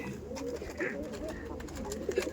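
Punjabi pigeons in a loft giving soft, low cooing close by, faint and brief over a quiet room hum.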